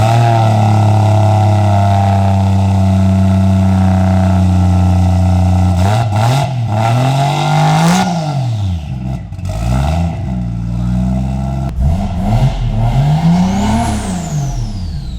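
A loud Lexus IS300 1JZ engine with a big turbo idles steadily, then revs hard repeatedly, pitch climbing and falling with each blip, with a turbo whistle and whoosh near the end.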